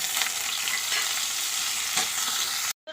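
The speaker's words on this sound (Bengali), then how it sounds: "এখানে দেখো পেঁয়াজটা ভাজা ভাজা হয়ে গেছে" Onions sizzle and fry steadily in a pan of hot oil while cooking a spicy katla fish curry, a close, continuous crackling hiss with no talk that cuts off abruptly near the end.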